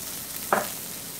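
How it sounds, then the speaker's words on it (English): Onions and green bell peppers sauté in a pan for a spicy Philly cheesesteak, giving a soft, steady sizzle with one brief louder flare midway; no voices. "What I want to do is saute my onions and my green peppers."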